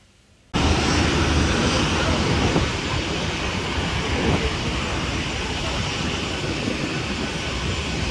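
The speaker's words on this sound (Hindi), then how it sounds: "इतना ज़्यादा शोर होगा ना जहाज़ का, मैं आपको सुनवाती हूँ" Loud, steady engine roar of a Ryanair airliner during boarding, a broad continuous rumble that starts abruptly and holds at a constant level throughout.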